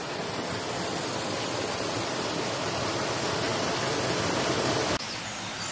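Water pours steadily from a waterfall in the sunken garden at Hampton Court Castle, a dense, continuous broadband rush close by with no voices, ending in a slight drop in level.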